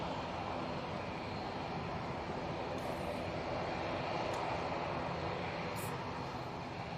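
An ATR turboprop airliner at Manchester Airport produces a steady, loud broadband engine roar that holds evenly throughout, with no talk.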